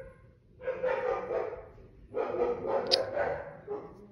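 A pet dog barks in two bursts at close range indoors, in a room where hermit crabs are kept, with brief pauses between loud yapping runs.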